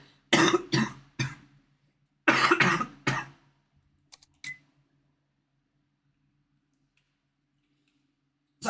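Close, harsh coughing from a person who is sick, in two clustered bursts of several coughs each, followed by a few faint clicks and then near silence.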